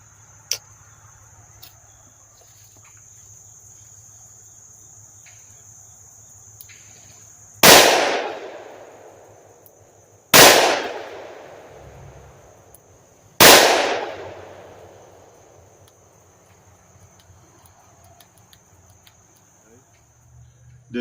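Charter Arms Mag Pug revolver fired three times, each sharp, loud crack followed by a decaying echo, spaced a few seconds apart over faint background hum.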